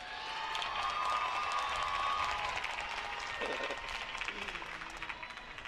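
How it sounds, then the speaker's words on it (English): A commencement ceremony crowd claps and cheers steadily, the applause swelling then gradually thinning out, with voices mixed in. "More clapping for him."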